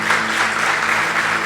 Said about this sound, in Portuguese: Pode aplaudir Jesus em forte.